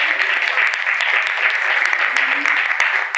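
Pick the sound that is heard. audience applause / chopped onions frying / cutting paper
audience applause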